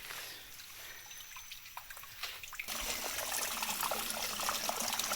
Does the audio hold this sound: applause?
no